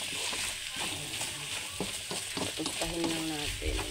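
Garlic fries in hot oil for pork sisig, a steady loud sizzle with stirring and scraping in the pan. Brief voice fragments come through under the frying.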